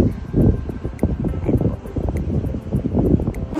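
Gusty wind buffets the microphone at a seaside fishing spot, making loud, uneven low rumbling roars and surges that last throughout.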